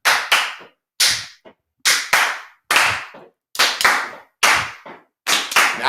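Hands clap in a steady rhythm of loud, close paired claps, roughly two quick claps per beat with short pauses between groups, clear and alone.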